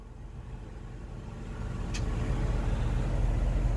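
The engine of a 16-year-old 2003 Ford Windstar SE minivan with 123,000 miles runs steadily at idle, a low rumbling hum that grows slightly louder partway through, heard close with no talking.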